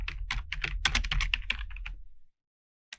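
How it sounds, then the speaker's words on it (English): Rapid typing on a computer keyboard, about two seconds of close, busy key clicks in an irregular burst, then silence and one last sharp keystroke as the name is entered. "I'm going to call my new hierarchy fiscal date"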